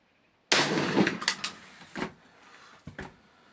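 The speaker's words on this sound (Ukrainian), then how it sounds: "затримка пострілу, так сказати, затяжний постріл" A single sharp rifle bang from a delayed hangfire rings out after a moment of silence, followed by a few scattered clicks and rattles as it fades.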